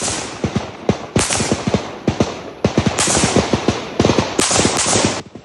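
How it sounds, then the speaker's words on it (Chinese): Soldiers lying on the ground fire machine guns in sharp, loud bursts of repeated shots, with uneven rhythm and several overlapping volleys echoing across open terrain. "镜头另一边，也有士兵趴地连环开枪"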